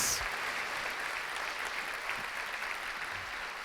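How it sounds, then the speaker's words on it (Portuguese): Church congregation applauding during a Portuguese-language sermon, a continuous wash of clapping heard from a distance and holding steady throughout. "Vamos aplaudir ao Senhor dos Exércitos."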